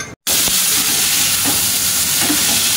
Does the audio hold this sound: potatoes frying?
yes